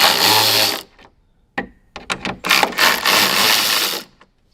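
Power tool loosening 9mm bolts on a 2024 Ford Mustang front hood vent, with a loud whirring burst, then a run of short stuttering bursts and a longer close buzzing run before stopping.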